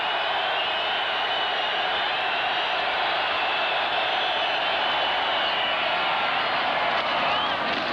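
Loud, steady roar of a large football stadium crowd at an NFL game between the Jets and Bills in Buffalo, a dense continuous wash of voices throughout with no clear lulls.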